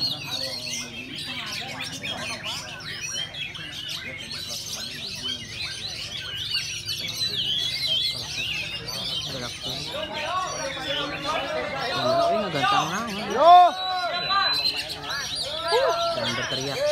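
Kacer (magpie robin) songbirds singing at a bird contest: many bright, varied chirps, whistles and trills overlapping at once, with crowd chatter and voices in the background and one louder sharp call near the end.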